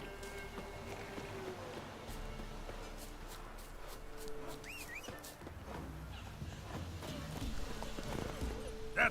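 Roach, a horse in The Witcher 3, gallops with rhythmic hoofbeats under a continuous game soundtrack, with someone talking over the steady clopping.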